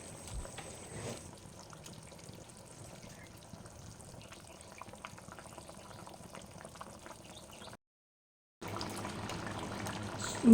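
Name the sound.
pouring hot water into fish curry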